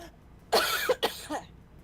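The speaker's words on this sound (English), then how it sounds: "I was trying to mute my mic so I didn't cough into it." A person coughs after saliva goes down the wrong way, a burst of three or four harsh, close coughs in quick succession with throat-clearing, fairly loud against a quiet background.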